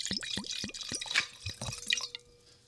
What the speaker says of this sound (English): that Lodi White Zin pour